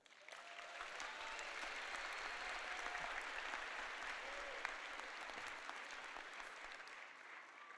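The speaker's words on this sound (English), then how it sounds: "Give them a round of applause." A large crowd applauds steadily and loudly for several seconds at a nursing school graduation convocation at NJPAC, a dense wash of clapping with no voices over it.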